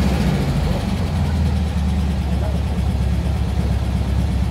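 A Porsche engine runs at a steady low rumble during an elegance parade through Rennes, continuous and fairly loud with a busy outdoor background.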